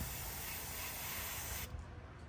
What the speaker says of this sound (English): so I'm just going to spray it.